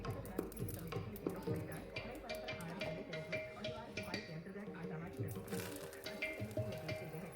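Mustard seeds, curry leaves and asafoetida crackle and sizzle in hot coconut oil for a traditional Udupi beans sambar, a steady busy frying hiss with scattered pops, heard close throughout.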